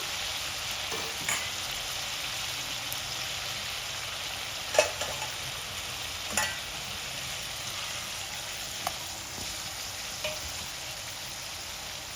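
Chopped onion and tomato fry in a pan with a steady, moderate sizzle. Occasional soft scrapes of a stirring utensil come through it, and no one speaks.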